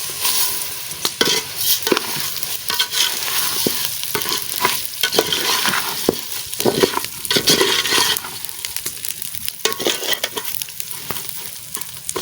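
Rice being added and stirred into frying onions in a pan for prawn biryani, a continuous close sizzle with repeated scraping and stirring strokes, loud and steady.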